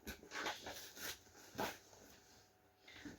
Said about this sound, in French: Ça c'est votre petit chien.